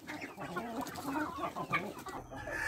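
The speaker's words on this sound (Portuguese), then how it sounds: "Aí ela me pediu pra tá jogando essa comida aqui pras galinhas." Chickens cluck and murmur steadily close by as feed is scattered for them on a farm, a busy overlapping chatter of soft calls, fairly faint overall.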